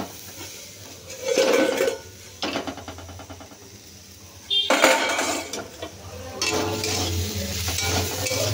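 A lid is lifted off a frying pan of potatoes, with a few metallic clanks and scrapes followed by the louder sizzle of the frying potatoes, close by and without talking.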